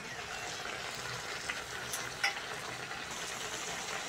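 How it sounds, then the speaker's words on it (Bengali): Shrimp fry with a steady, soft sizzle in a covered pan, together with a curry of eggplant and Malabar spinach, with a couple of faint clinks partway through. "এবার চিংড়ি মাছ দিয়ে ঢাকা দিয়ে দেবো।"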